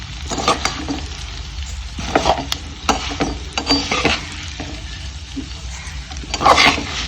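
Wheat flour vermicelli roasting in a pan in a village kitchen: a steady sizzle and crackle with repeated scraping and clinking as a utensil stirs the strands, close and fairly loud, with faint talk.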